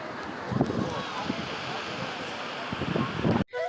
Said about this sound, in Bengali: শুধু বাতাস আর সমুদ্র